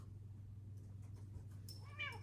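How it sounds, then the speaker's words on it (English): An agitated indoor cat gives faint, soft meows that build into one louder, drawn-out wailing meow at the end, over a low steady hum. "My cat is freaking out."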